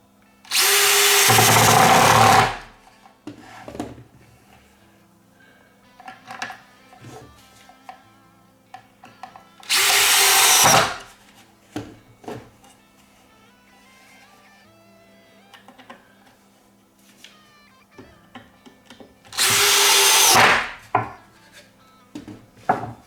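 A power drill drives screws to fix a support onto a Telecaster guitar body, three loud close bursts of whirring, each about two seconds, with quiet handling noises between.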